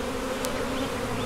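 Honeybees from a package buzz in a soft, steady hum, faint and close, over a brief stretch with no talk.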